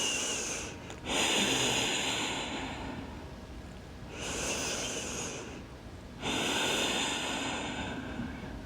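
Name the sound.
breathing during a yoga spinal twist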